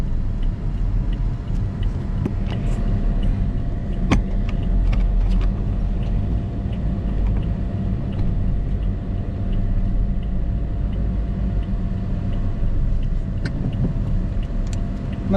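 A sedan doing ride-hailing duty crawls over a rough, potholed road, its suspension straining. A steady low cabin rumble runs through it with scattered knocks and thumps from the road and no talk.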